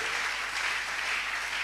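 A church congregation applauding, a brief, dense patter of many hands clapping together at moderate level.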